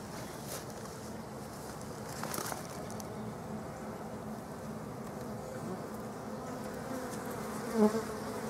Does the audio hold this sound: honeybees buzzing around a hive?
yes